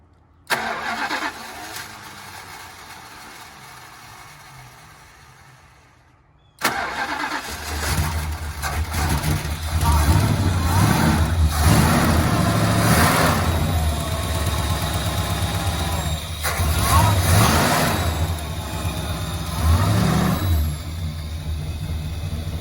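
A 1969 Dodge Polara cranks and catches after a short, quieter lead-in, then runs loud and close, settling into a steady rumbling idle with occasional rises in engine speed.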